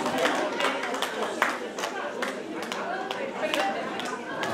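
An audience claps at a folk ensemble's concert, with dense ragged applause of many hands running steadily throughout, mixed with crowd chatter and a voice speaking over it.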